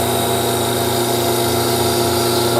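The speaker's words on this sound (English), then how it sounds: "I'm taking light cuts, I'm taking easy cuts, and another cut to practice with our shallow fluted gouge." A wood lathe spinning while a shallow fluted gouge takes light, easy cuts, giving a loud, steady whirring drone with a rough hiss that stays even throughout, with no voice.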